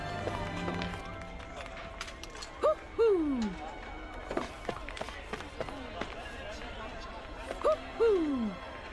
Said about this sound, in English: There's an owl somewhere.